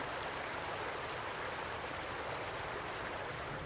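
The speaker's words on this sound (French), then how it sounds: "Le ruisseau reste toujours là-bas. Le ruisseau est à sa hauteur normale." Stream in Belgium running at its normal level after the 2021 floods, a soft, even broadband rush of water, faint and continuous with no voices.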